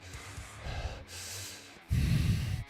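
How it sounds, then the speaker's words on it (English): Heavy, exaggerated breathing and snorting from a single nearby voice comes in uneven puffs, with a louder, rougher burst of breath near the end. "Heavy breathing."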